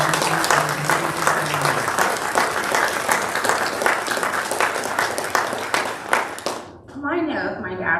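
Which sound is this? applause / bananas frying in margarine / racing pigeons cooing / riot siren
applause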